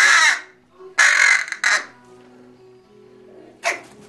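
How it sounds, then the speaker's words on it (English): A pet hooded crow caws loudly and close by, giving three harsh caws in quick succession and then a fourth after a pause, with faint background tones in between. "You're a crow, not a human being."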